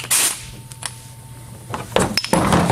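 An impact gun used with an ESCO portable bead breaker while changing a large agricultural tire gives several short, sharp, rattling bursts, close and loud, separated by brief pauses.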